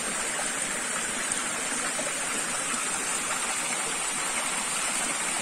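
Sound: water flowing from a water pipe at a spring

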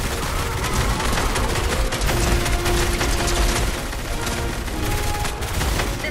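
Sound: gunfire in the video game Fortnite

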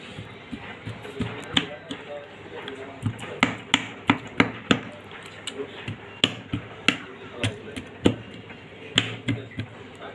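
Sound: pricking tandoori chicken with a fork

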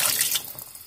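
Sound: pouring a glass of water into salmon sinigang pot

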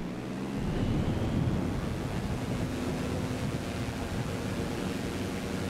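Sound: aircraft accelerating for takeoff in Microsoft Flight Simulator 2020 video game

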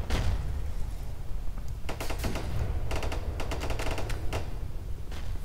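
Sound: machine gun fire in the Armor Alley video game

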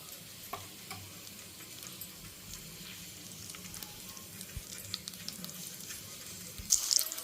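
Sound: bitter gourd stuffing frying in oil

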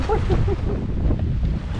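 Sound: strong wind blowing at the seashore

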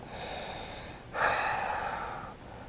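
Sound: deep breathing during a yoga pose

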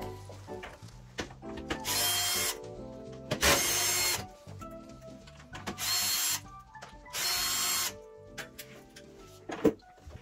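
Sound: screws being unscrewed from AEG dryer back panel

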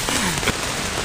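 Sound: rain falling

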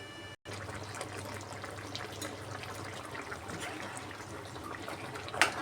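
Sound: tamarind juice being poured into potato curry

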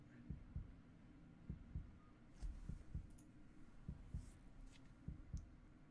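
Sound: heartbeat sound in the video game Resident Evil 3

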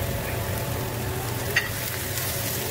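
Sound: celery and carrots stir-frying in a pan

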